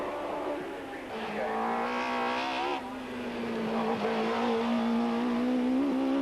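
A racing car, the MP58, revs and climbs in pitch as it accelerates up the Shelsley Walsh hillclimb in 1990, growing louder and nearer, with a brief gear change midway.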